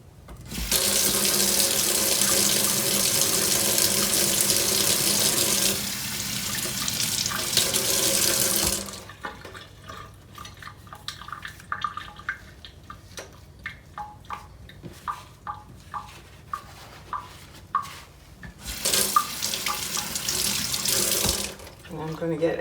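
Tap water runs loudly into a sink while a tumbler is wetted to transfer a glow-in-the-dark temporary tattoo, stopping for a stretch of drips, clinks and handling noises before gushing again near the end.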